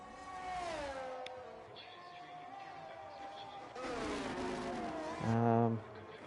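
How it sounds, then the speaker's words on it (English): Race cars in a racing video game overtake at a Montreal, Canada circuit, engine whines rising and falling in pitch with a louder pass near the end, heard under a commentator's voice. "Dan Morris makes the overtake on Stiffy"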